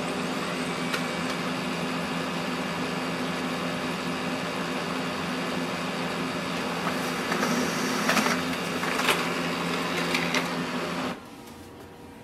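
A Brother MFC-L2820dw laser printer prints a document, giving off a steady mechanical whir and hum with faint clicks and rattles near the end before the motor stops abruptly.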